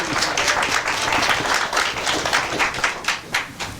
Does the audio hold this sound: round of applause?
yes